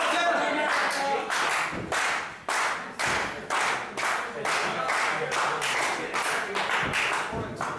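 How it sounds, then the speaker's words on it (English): A crowd at a women's extreme wrestling match claps in a steady, rapid rhythm, sharp hand claps repeating loudly with a few thuds mixed in. "You can hear the crowd rally behind Santana"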